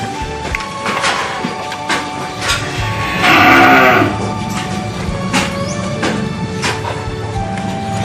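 Cattle being fattened low and moo while feeding from a trough, with one louder drawn-out call midway and scattered knocks and rustles around it.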